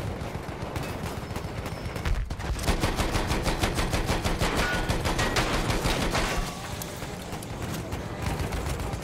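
Sustained rapid automatic gunfire from the World War I shooter Battlefield 1 rattles loudly and continuously, with dense bursts overlapping and then easing slightly toward the end.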